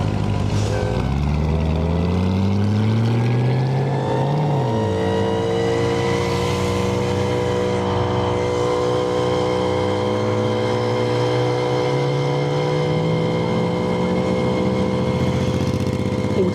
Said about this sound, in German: jetzt kommt noch eine geile Karre